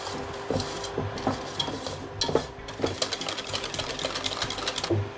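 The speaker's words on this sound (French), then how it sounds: "Enfin, j'ajoute la maïzena. Et je mélange également avec le fouet." A whisk beats cornstarch into a flan mixture in a bowl, giving a steady run of close, quick scraping and tapping strokes with small bursts throughout, no voices heard.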